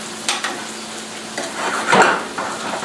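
Butter foams and browns in a hot pan with a soft, bubbly sizzle, broken by a few quick utensil clinks and a brief louder crackle near the end.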